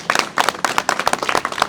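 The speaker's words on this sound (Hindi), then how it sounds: "एक बार जोरदार तालियां बजा दीजिए इसके लिए" An audience claps together at a launch event for a JEE test series, giving a dense, uneven patter of many hands that stays loud and steady throughout, with no clear talk over it.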